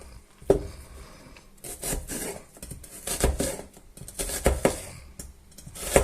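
Knife chopping half an onion into small pieces on a board, irregular knocks and rasping cuts in short bursts, close and fairly loud.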